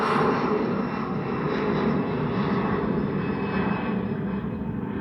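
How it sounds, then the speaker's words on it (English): A steady, broad roar of an airplane passing overhead, fairly loud and unbroken, with no voices. "And there goes the airplane."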